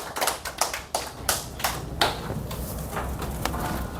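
Audience at a lecture applauding to close the session, a short scattered round of claps from several people, close, sharp and uneven, thinning out toward the end with no talking.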